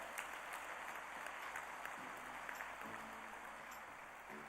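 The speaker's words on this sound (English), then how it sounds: "welcome, sir, with huge round of applause" Applause from delegates welcoming the chief guest at the inaugural ceremony of the World Forum of Accountants in Delhi, a steady distant crackle of clapping across a large hall, fairly faint, with no talk over it.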